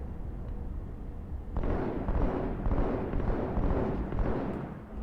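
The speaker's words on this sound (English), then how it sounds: "Yes, just keep shooting the box I'm standing behind." Halo 2 Anniversary gunfire pummels a box a player crouches behind: a dense, roaring stream of rapid shots and blasts that kicks in sharply after a brief lull and holds steady, loud and close, to the end.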